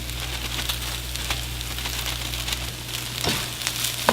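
Eggs and rice fry in a pan for shrimp fried rice, a steady close sizzle and crackle with occasional stirring scrapes over a low hum.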